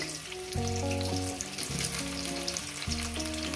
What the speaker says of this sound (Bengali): এবার দিয়ে দেবো এক এক করে আলুর টুকরোগুলো